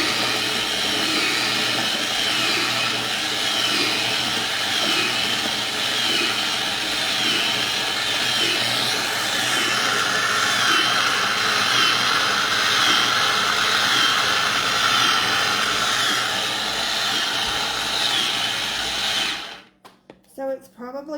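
Electric food chopper on its chop setting grinding graham crackers for a cheesecake crust, a steady loud motor whir with rattling crumbs that runs continuously for about twenty seconds before stopping abruptly.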